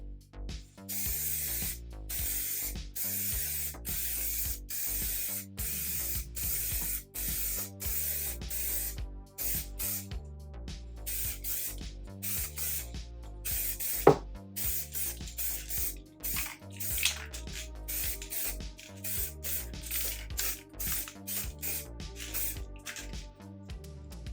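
Aerosol spray paint hisses onto a car wheel being restored by hand, in a long series of short, rhythmic bursts with brief gaps between passes, fairly close and alone.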